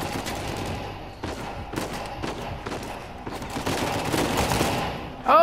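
Sustained automatic gunfire in an action video game, a dense rattling fusillade running through the whole stretch with short pauses, close and loud, ending in a sharper burst.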